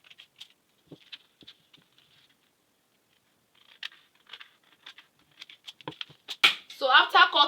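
Scissors cutting dress fabric for a collar, sparse soft snips and crisp clicks spaced across a quiet stretch, then a denser cluster of crunchy cuts toward the end, close and fairly faint.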